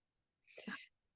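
A single short, breathy sneeze, soft and fairly quiet, standing alone against near silence.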